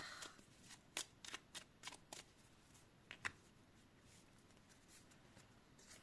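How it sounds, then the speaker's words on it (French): Tarot or oracle cards being shuffled and drawn during a card reading: a run of crisp riffling flicks over the first two seconds, one sharp snap near three seconds, then near silence, close and fairly quiet. "Je vais te tirer une petite carte supplémentaire."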